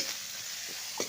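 Duck meat frying with onions in a karahi, a steady soft sizzle with a brief stir or scrape near the end, close and fairly quiet.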